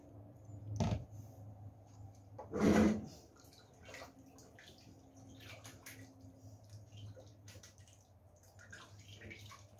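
A litre of water is poured into a soup pot for a grandmother's homemade soup, heard as two short splashing bursts followed by quiet kitchen rustling and faint drips.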